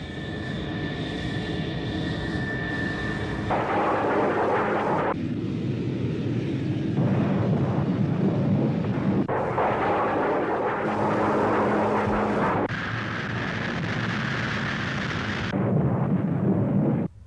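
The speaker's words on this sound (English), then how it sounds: "The MiG-23 can also carry rockets and bombs." A MiG-23 jet aircraft firing rockets and dropping bombs, heard as continuous loud roaring and rumbling blasts that shift in character every few seconds.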